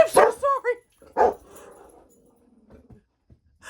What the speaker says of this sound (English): The dogs lost their minds and scared the bejeebers out of me.